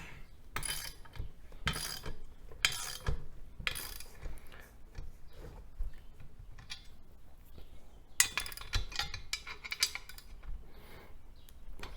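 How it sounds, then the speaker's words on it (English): Bike rack bolts tightened on a platform-style hitch mount rack with a 19 mm socket and a number 8 hex wrench, giving bursts of close metallic ratcheting clicks and clinks separated by short pauses, with no talk. "19 millimeter socket, and we're going to use the number 8 hex wrench"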